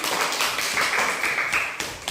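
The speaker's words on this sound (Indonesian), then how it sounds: "Tepuk tangan dulu untuk mereka." A classroom of students applauds a group presentation, a dense steady wash of many hands clapping together, continuous and fairly loud throughout with a few sharper claps near the end.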